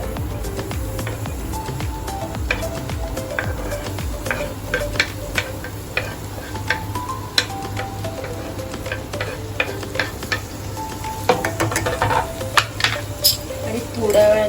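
Chopped onion sizzling and frying in plenty of butter in a pan for pasta, a steady crackling hiss with frequent stirring clinks and scrapes throughout, close and moderately loud.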